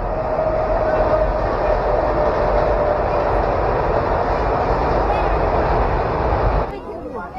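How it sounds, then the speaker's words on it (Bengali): A train rumbles steadily past at close range near a flower-growing area at Khirai outside Kolkata, loud and continuous with a faint horn-like tone early on, fading at the end. "এই তো ট্রেন যাচ্ছে।"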